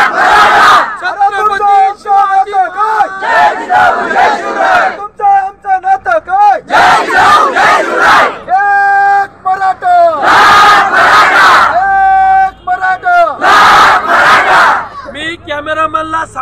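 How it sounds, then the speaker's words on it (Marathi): A large Maratha community crowd at a reservation protest, with tractors gathered, chants and shouts slogans in loud, rhythmic bursts, voices rising together and pausing briefly between calls. "मराठा समाजाचा एवढा मोठा आक्रोश झालेला आहे"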